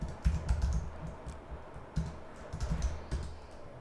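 Fingers type on a computer keyboard while writing CSS code, with short bursts of close, crisp key clicks separated by brief pauses.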